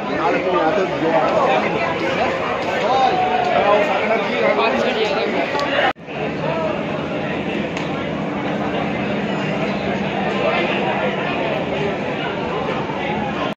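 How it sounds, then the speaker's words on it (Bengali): Crowded Sealdah railway station in Kolkata, a dense continuous babble of many voices echoing nearby, steady and loud throughout. "শিয়ালদা স্টেশন চলে এসেছি। দেখুন প্রচুর ভিড়।"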